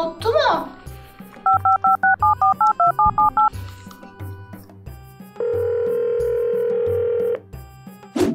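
Touch-tone telephone dialing beeps from a toy or phone in a children's play-dough kitchen set scene: a quick run of about ten evenly spaced beeps, then a long steady tone, with a child-like voice talking around them.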